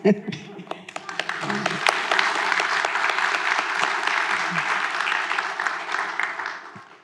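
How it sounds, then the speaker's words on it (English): An audience claps and applauds at a live event in Atlanta, a dense burst of clapping building quickly and holding steady before fading, with faint voices and a chuckle underneath. "y'all can clap"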